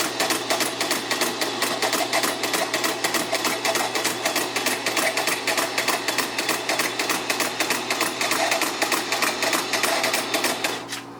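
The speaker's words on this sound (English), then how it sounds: "I can put it in feed mode, and then let's feed it through the printer." A vintage FANUC PPR portable paper tape punch printing while it feeds tape makes a rapid, loud mechanical clatter with fast even repeated strikes. The chatter runs steadily for about eleven seconds before winding down.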